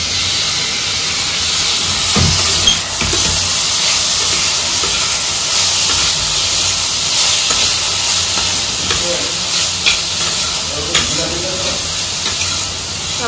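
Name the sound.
onion and capsicum frying in a pan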